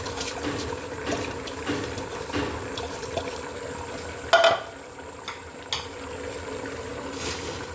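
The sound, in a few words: adding washed polao rice to pot for beef keema biryani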